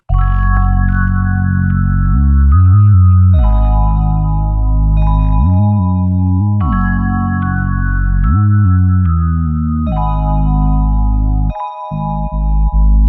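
Bell-toned synth melody and chords in a trap beat ride over a loud, deep synth bass that pulses and slides, full and continuous throughout.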